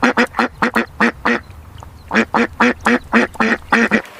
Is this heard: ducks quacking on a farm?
yes